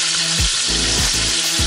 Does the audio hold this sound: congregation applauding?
no